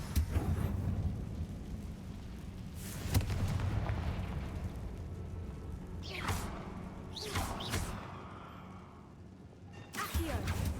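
A Confringo spell blast in Hogwarts Legacy inside a spider-filled tomb, a sharp booming impact followed by crackling fiery bursts and whooshes, fairly close, with a voice speaking during the clip.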